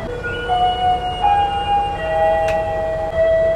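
The Siliwangi passenger train pulls away from Ciranjang station on a recently reactivated line, a steady rumble with long sustained horn-like tones sounding over it throughout.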